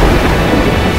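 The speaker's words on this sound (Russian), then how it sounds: "Вдруг морскую тишину нарушили раскаты грома." Thunder rolls over the sea as a loud, deep, continuous rumble that fills the whole moment, with no voices.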